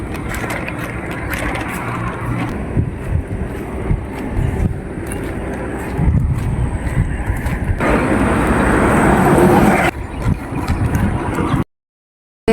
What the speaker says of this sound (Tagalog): Grabe ang hangin guys oh.